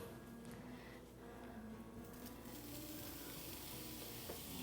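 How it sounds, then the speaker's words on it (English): Hot dog pieces sizzle steadily in a grooved cast iron skillet over low heat, a soft, continuous frying hiss heard alone and close. "Hear that nice sizzle?"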